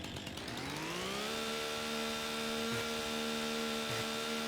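A chainsaw in Farming Simulator 25 revs up from idle into a steady, loud high-pitched whine while cutting trees, holding a continuous drone with brief dips as the load changes.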